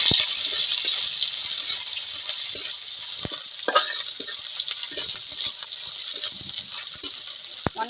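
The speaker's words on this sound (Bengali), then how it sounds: "এখন আমি রসুনটাকে ভালো করে ভেজে নেব।" Garlic with bay leaf and dried chilli frying in hot oil, giving a steady bright crackling sizzle with scattered sharp ticks and pops from stirring, alone and fairly close.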